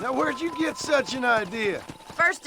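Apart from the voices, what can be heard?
No everyday noises stand out.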